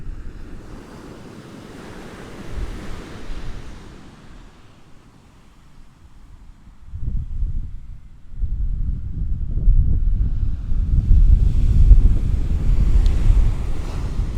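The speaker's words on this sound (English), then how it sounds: "That wind's whipping up as well now, coming from right to left." Wind buffets and roars across the Hornsea shoreline on the Holderness coast, rising from a low rumble to strong, steady gusts mixed with breaking surf, close and loud against the microphone.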